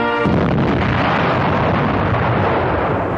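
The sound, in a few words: 2,000-pound bomb exploding on impact at proving ground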